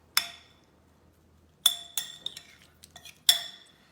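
A metal spoon chinks against a glass dish while cutting through ambrosia, a fruit salad with orange: four or five sharp, close clinks spaced irregularly, with quiet pauses between them.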